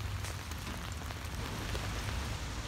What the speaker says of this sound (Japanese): まだ雨が降ってますが